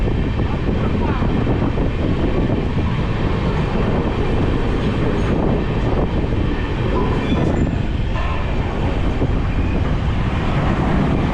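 A train runs at speed alongside parallel tracks near Sealdah, with other trains overtaking on both sides; a continuous loud rumble and wheel clatter, plus wind buffeting, fills the whole stretch with no talk.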